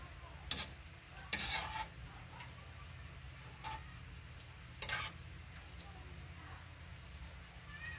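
Sweet potato leaves hitting a pan, with a few sharp crackling bursts and light scraping stirring over a steady low hum, faint and fairly close.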